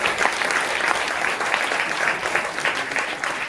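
An audience at a company motivational event applauds a top-ranked member, with dense, loud, continuous clapping from a large crowd filling the room without a break.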